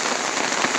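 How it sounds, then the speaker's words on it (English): Hail pelts trees and surfaces during a thunderstorm in Baldwin, Michigan, a dense, loud, continuous patter of countless hard impacts close by, with no talking over it. "That is hail."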